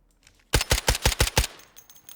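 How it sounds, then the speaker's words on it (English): A .45 ACP weapon in the shooter game Delta Force fires one fast burst of about seven loud, evenly spaced shots, close and punchy, followed by a short fading tail. "Very fast rate of fire on this. And again, you're firing 45 ACP."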